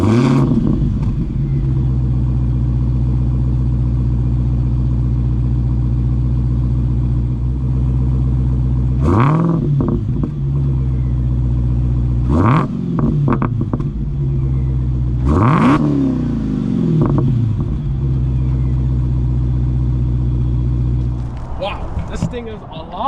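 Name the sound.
Dodge Demon 170 engine revving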